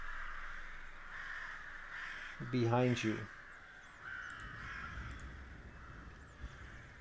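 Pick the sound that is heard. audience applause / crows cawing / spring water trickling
crows cawing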